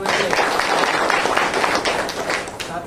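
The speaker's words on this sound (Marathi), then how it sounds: "सर्वांनी एकदा जोरदार टाळ्या" A crowd claps together in a sustained burst of applause at a felicitation of newly elected municipal councillors, dense and uneven, with no talking over it.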